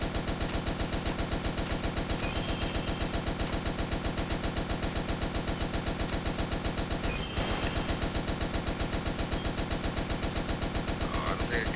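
Rapid, steady machine gun fire from the video game Toy Soldiers: War Chest, a dense rhythmic stream of shots that runs loud and continuous for nearly twelve seconds, with only a brief break near the end before it resumes.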